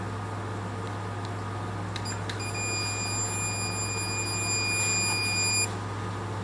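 A handheld electronic stud finder scanning a wall for a stud while building a homemade shelf: a faint click, then a steady high electronic tone held for several seconds over a constant low room hum.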